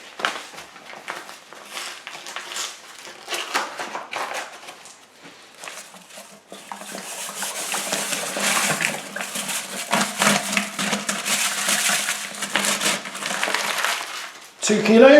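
One kilo of granulated sugar pours steadily into a wine kit with boiling water, a dense gritty hiss that builds louder midway and runs continuously, with faint rustling at the start.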